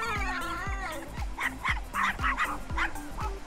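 A toy dog in a doll play scene gives a rapid string of yappy barks and whimpers after an opening whine, close and fairly loud, repeating in short bursts.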